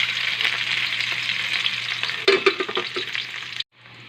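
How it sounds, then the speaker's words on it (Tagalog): Onion and garlic sizzling and frying in a pan for squid curry, a steady, loud crackling hiss with a few stirring scrapes near the end before it suddenly drops to a faint sizzle. "Ilagay na natin ang ating sibuyas at bawang."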